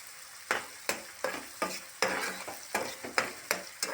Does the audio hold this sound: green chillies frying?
yes